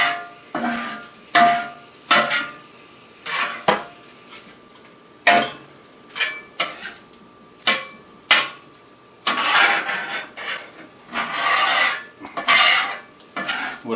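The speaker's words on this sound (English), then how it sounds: "Scrape the wool back to the back right there." Steel wool scraped across a Camp Chef griddle cooking surface indoors, in short rasping strokes repeated at an uneven rhythm, close and fairly loud, with brief quiet gaps between strokes.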